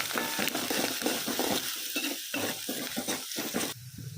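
Curry leaves, finely chopped coriander and a pinch of salt are stirred in a hot pan of tempering oil, giving a steady sizzle with repeated scraping strokes of a spoon against the pan.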